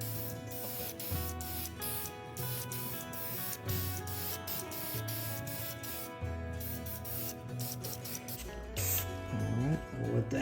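Spray paint going onto a Tamiya Blitzer Beetle RC car body in repeated short bursts of hissing, fairly close, with brief gaps between passes and no talk.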